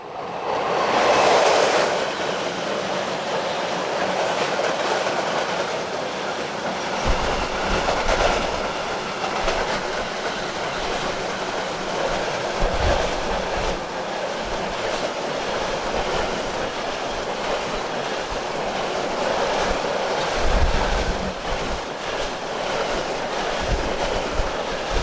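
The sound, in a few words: class 140 locomotive hauling freight train through station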